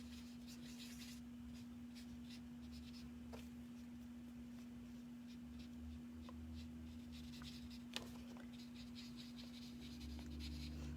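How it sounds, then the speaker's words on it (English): Alcohol markers move across paper as flowers on a stamped card are coloured in. The scratchy stroking is quiet and close, with faint taps and a higher squeak here and there, over a constant low electrical hum. "I'm going to color these flowers here."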